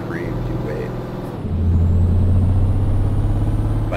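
Truck in the Euro Truck Simulator video game rumbling past in traffic, a steady low engine drone that swells louder and closer partway through, under a man's speech.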